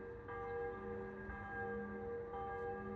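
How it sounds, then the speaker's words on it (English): Midday church bells in Trogir, Croatia, ringing with sustained overlapping tones and repeated strikes, moderately distant over steady outdoor background noise. "That's midday bells going on over there."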